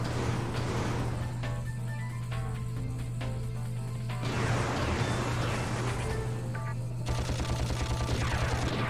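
Gunfire in the Ratchet & Clank video game, a steady wash of weapon blasts and rapid shots mixed with game music and effects, loud and continuous for the whole stretch.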